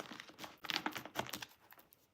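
A tarot card deck being shuffled by hand: soft papery riffles and flicks in quick irregular bursts, close and fairly quiet, with no voices.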